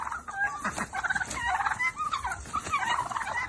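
Domestic turkeys fighting, a quick run of loud, close gobbles and squawking calls crowding over one another for a few seconds.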